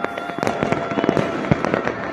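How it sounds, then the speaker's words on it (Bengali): New Year's midnight fireworks over Uttara, Dhaka, crackle and pop continuously in dense overlapping bursts, loud and fairly close, with a sharper bang near the end. "আর আতশবাজিতে মেতে উঠছে"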